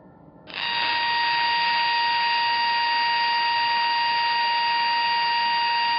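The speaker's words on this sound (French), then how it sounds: "si j'allume le laser, je vais faire transmettre les vibrations de ce haut-parleur uniquement par" A loudspeaker's vibrations are picked up by a lidar laser beam and reproduced as a steady, loud electronic tone that switches on abruptly and holds unchanged, with no talking.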